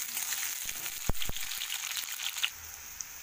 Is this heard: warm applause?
no